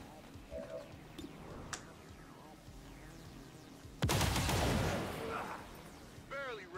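Gunfire rings out in the XCOM 2 video game: a few faint shots come first, then a sudden loud burst that decays into a rumbling roar. Someone talks quietly over parts of it.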